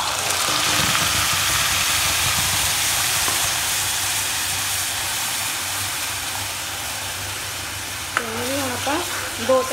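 Steady sizzling hiss of cumin and cardamom frying in a pan as tomato puree goes in, continuous and close, with a brief voice near the end.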